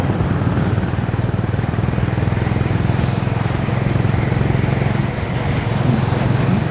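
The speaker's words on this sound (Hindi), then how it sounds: "बाइक बहुत बढ़िया चल रही है यार" Motorcycle ride on a road during a monsoon weekend trip: a steady, loud engine drone and wind rush that runs continuously close to the microphone.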